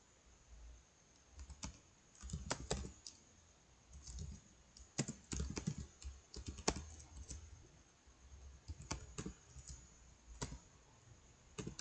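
Quiet typing on a computer keyboard during a database lesson, with irregular clusters of key clicks and short pauses between bursts, close and soft, with no speech.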